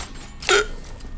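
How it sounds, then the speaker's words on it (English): A single sharp hiccup from a person, abrupt and fairly loud, close up against a quiet background with faint game sounds, and no speech around it. "Hiccups are awesome."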